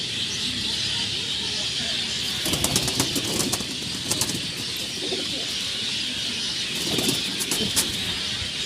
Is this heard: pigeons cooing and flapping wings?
yes